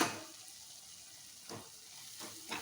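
Vangibath gojju masala fries quietly in a pan, a soft continuous sizzle with faint stirring scrapes and a couple of brief louder clinks near the end, no voices.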